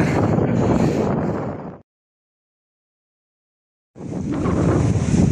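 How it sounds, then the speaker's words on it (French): Strong wind at Sitges buffets the microphone in loud gusts, cutting out abruptly to silence for two seconds before the roaring rush returns. "Ce vent me saoule."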